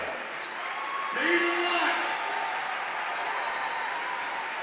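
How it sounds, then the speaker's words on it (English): Crowd applause fills a high school basketball gym as a senior player leaves the game, a steady broad wash of clapping and cheering with a commentator talking over it. "Jaden Lotz, a senior, gets a nice round of applause as he exits the ball game."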